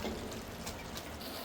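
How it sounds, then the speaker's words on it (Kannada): Water pours steadily into a cooking pot for green pulao, a soft continuous splashing trickle, fairly quiet and without talk. "ನಾವು ಇವಾಗ ನೀರು ಹಾಕ್ತಿದ್ದೀವಿ"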